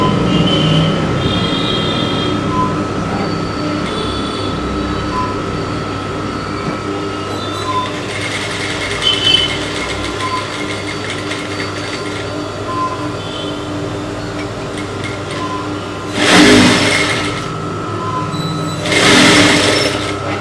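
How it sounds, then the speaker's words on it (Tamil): A sewing machine stitches a back-hook blouse with a steady, continuous mechanical whir and rapid needle clatter, running alone throughout with a couple of louder bursts near the end. "இப்போ தைக்க ஆரம்பிக்கும்"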